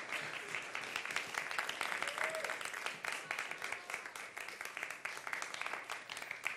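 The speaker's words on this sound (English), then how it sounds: "Please give them a round of applause as they come up." A conference keynote audience gives a sustained round of applause as guests walk to the stage, a fairly soft but even patter of many hands with no speech over it.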